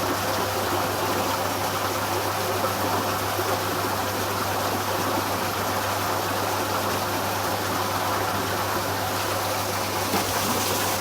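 Water rushes steadily through a hydraulic flume channel past a twin-arch model bridge, its level raised by the constriction, giving a continuous, loud, broadband flowing wash with a low hum underneath and no pauses.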